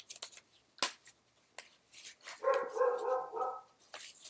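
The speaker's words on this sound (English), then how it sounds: "Sorry, the dog's barking." A dog indoors or nearby gives a short burst of several sharp barks in a row, moderately loud against otherwise quiet surroundings, with a few scattered knocks before it.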